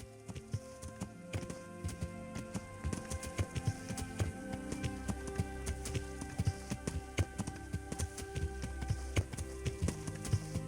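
A horse's hooves clip-clop in a steady walking rhythm in the medieval game Kingdom Come: Deliverance, faint but continuous, with no talking.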